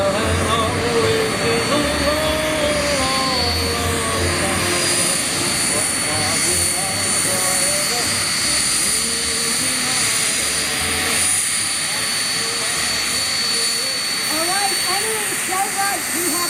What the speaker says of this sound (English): have the one and only aircraft called the Pilot Maker